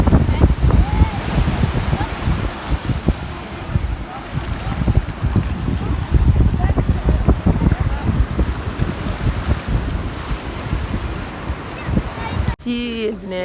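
Sea waves wash in at Bakacem beach in Tangier, a steady loud surf roar mixed with heavy wind buffeting on the microphone, continuing throughout and cut off abruptly near the end.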